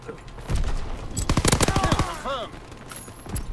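Bursts of automatic PPSh submachine-gun fire in a WWII video game, rapid close shots in a dense cluster, with someone talking over parts of it.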